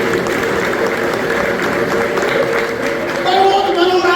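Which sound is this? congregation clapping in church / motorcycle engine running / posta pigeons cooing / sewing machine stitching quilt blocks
congregation clapping in church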